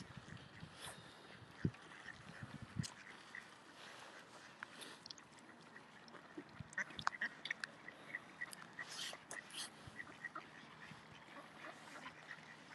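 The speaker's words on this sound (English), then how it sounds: "Let's feed the birds for a few minutes." Ducks and other birds at a canal in Stone, beside the Trent and Mersey Canal, quack and call while being fed in winter, with scattered splashes and soft outdoor ambience and no talk.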